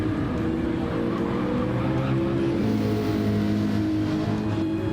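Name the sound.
race cars at Watkins Glen in Gran Turismo 7 video game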